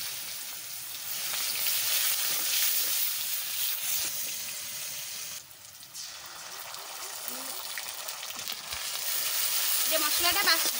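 Cumin seeds and onion sizzling in hot mustard oil for a fish masala, a steady hissing fry that holds throughout and briefly dips midway.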